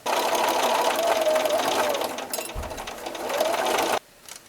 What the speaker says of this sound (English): I'm going to sew around close to the cording again to attach the cording to the front of the pillow